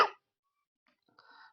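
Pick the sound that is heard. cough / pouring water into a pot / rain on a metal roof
cough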